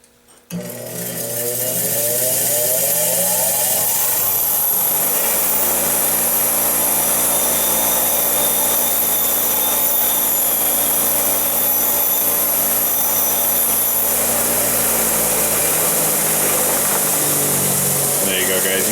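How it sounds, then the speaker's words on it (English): A bench grinder spins up and grinds steel steadily as an AR-15 front sight is worked down, a loud continuous whine and rasp lasting the whole stretch after a brief start. "So I'm going to go ahead, go over here on the grinder and start working it down and see what that's like."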